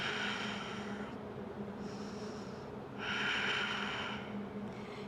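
During a power yoga pose, slow deep breaths sound close and airy, a long rushing inhale and exhale followed by another rising breath, with no talking.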